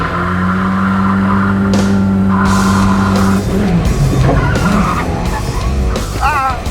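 A Chevy S10 truck reverses and whips into a Rockford spin, tires squealing and skidding loudly over a revving engine, with a sustained howl giving way to scrabbling, rising and falling squeals nearby.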